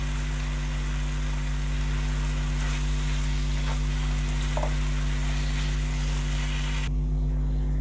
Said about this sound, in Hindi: मटन हमारा अच्छे से बॉईल हो चुका हुआ है, बस अब इसकी भुनाई होगी।